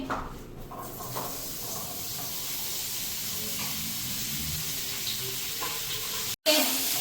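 Sausages sizzling in hot oil in a pan, a steady broadband frying hiss that holds for several seconds at close range, with a short dip near the end.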